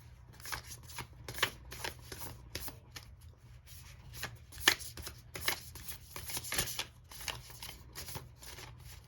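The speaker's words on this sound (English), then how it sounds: "let's shuffle this up." Tarot cards from a Guardian Angel deck are shuffled by hand, a quiet, close run of crisp riffling bursts and soft slaps repeating irregularly over a faint low hum.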